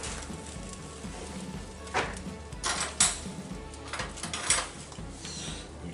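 Oven roasted fish being flipped in a pan: a few close metallic clinks and scrapes of a utensil against the pan, spaced irregularly over a steady background hiss, with no talking.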